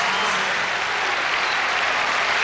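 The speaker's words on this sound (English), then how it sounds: "the crowd giving her a standing ovation for that floor routine" A large arena crowd gives a standing ovation after a gymnastics floor routine at the 1997 Women's Pro Championships, with dense, sustained applause and crowd noise filling the whole stretch at full volume.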